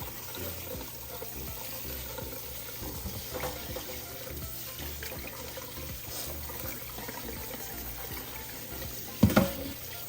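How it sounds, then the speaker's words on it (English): Broccoli florets rinsed under a kitchen sink tap, a steady close stream of running water with faint clatter, then a brief louder splash near the end. "I'm going to wash these off in the sink here."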